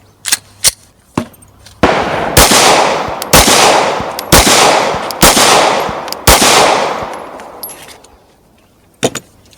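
Rapid string of Glock pistol shots at an outdoor shooting range, about five loud cracks roughly a second apart with echoing tails, preceded and followed by lighter clicks and handling noise.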